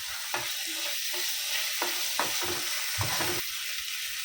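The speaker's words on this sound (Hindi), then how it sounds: "अभी अदरक लहसुन डाल के अच्छे से भुनेंगे" Ginger and garlic sizzle and fry steadily in a pan, with occasional scraping clicks of a spatula stirring them, close and continuous.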